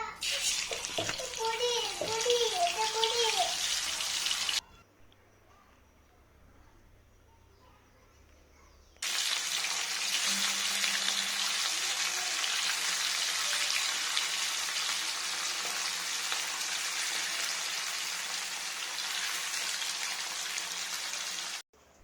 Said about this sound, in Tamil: வாங்க மீன் பொரிக்கலாம்